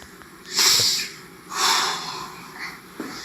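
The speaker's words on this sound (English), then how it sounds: "You hear that breathing?" Heavy, rasping breaths after a run of back-to-back exercises, two long loud exhalations followed by softer panting, close up with no talking.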